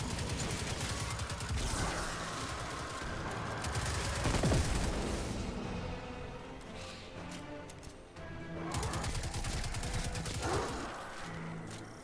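Rapid assault rifle fire in the video game Destiny 2, dense bursts of automatic shots in several long volleys with brief pauses between them, loud and close against game background noise.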